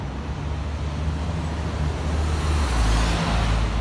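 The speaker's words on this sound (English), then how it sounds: "fix my car. There's something wrong with it, the muffler." A car with a faulty muffler rumbles low and steady from the cabin, a deep drone that swells slightly near the end, with road noise and no talk.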